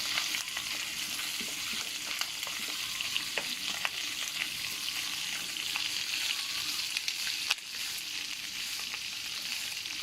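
Steady hissing sizzle of chicken frying hard in a pan over high heat, with scattered pops and crackles and the odd scrape of a utensil, no talking.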